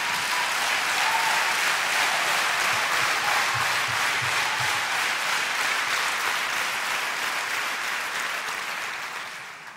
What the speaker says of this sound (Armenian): եկեք ծափարենք Հիսուսին